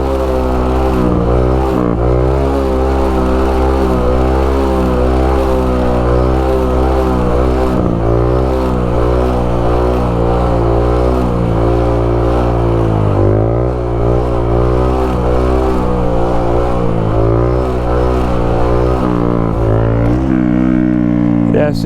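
A motorcycle engine revs continuously and loudly during wheelie practice in a lot, its pitch rising and falling as the throttle is worked; the bike is close by and the engine runs without a break.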